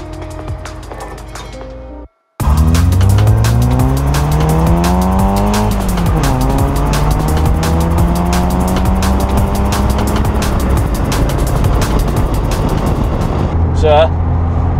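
A modified VW Polo Mk2F pulls away and drives on, its engine note rising and falling through the gears, loud and close, with road noise throughout and a short gap near the start.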